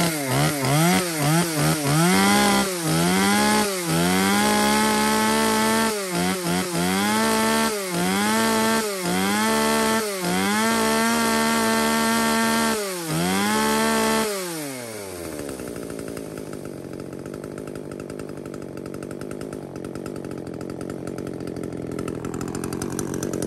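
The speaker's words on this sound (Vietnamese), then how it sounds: "cửa hàng chúng em sẽ test nổ cây máy cho nghe qua tiếng máy luôn." A 35cc Husqvarna 333 chainsaw engine revs loudly and alone in a series of rhythmic bursts, each dropping back between pulls on the throttle, then settles into a steady idle for the final stretch.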